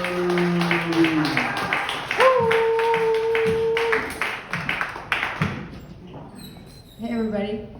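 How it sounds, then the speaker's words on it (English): Audience applause for comedian Sullivan at a comedy show, a brisk burst of clapping that fades away, with a voice talking over it and sustained tones alongside. "Give her a nice warm round of applause."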